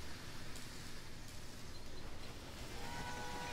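A train runs in the Railway Empire video game, heard as a steady, dense rumbling noise that holds evenly throughout without clear breaks.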